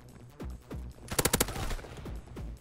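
Orso submachine gun firing in Call of Duty WW2, a short rapid burst of about five quick shots in the middle, set between quieter thuds and game noise.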